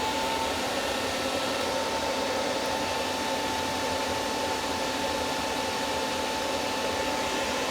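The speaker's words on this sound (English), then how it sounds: "can hear the fan in the background" The cooling fan of a Messenger M1600 suitcase amplifier running at high output drones with a steady whoosh and faint tonal hum, no voices, moderately loud throughout.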